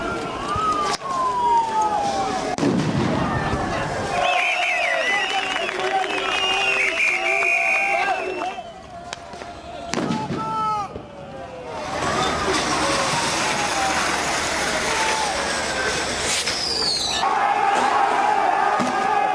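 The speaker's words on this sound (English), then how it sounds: "tear gas has been fired by the police" Police tear gas launchers firing at protesters on a Paris street near the Élysée Palace, with sharp bangs and hissing bursts amid a loud crowd and wailing sirens, the noise dense and continuous throughout.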